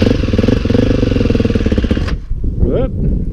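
Quad bike engine running loud and close with a steady pulsing rumble for about two seconds, then cutting off, followed by a short voice and a whoop.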